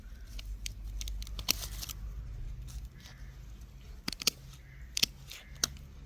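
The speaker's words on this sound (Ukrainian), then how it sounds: "Обрізаю ще її оці гілочки коротенько." Garden shears snip back lavender branches outdoors, with a series of sharp, close cuts scattered over soft rustling and a low background hum.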